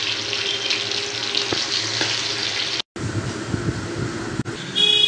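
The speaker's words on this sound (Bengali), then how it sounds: "সো মাছগুলো ভাজা হচ্ছে" Pomfret fish fry in mustard oil in a kadai, giving a steady, close hiss and sizzle that runs throughout with a brief break partway.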